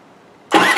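Predator 3500 generator engine starting: after a quiet half second the engine catches abruptly and runs on loud and close as a steady mid-pitched roar.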